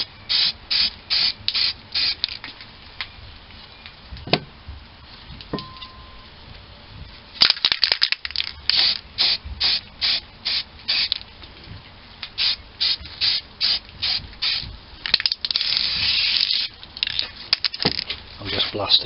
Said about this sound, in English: time for the second spray on the inside